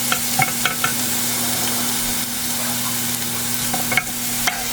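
Enoki mushrooms fry in a pan with a steady sizzle while a utensil stirs them, giving several soft scraping clicks over the constant hiss. No voices.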